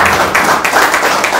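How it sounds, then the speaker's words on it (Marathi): Crowd applause at an award ceremony for short films, a steady, fairly loud wash of many hands clapping close by, without pauses. "जोरदार टाळ्या झाल्या पाहिजे"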